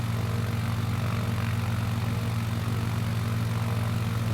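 A propeller airplane in Microsoft Flight Simulator 2020, on final approach with full flaps near Manzanar Airport, holds a steady, loud engine drone as its RPM rises slightly, alone with no voices.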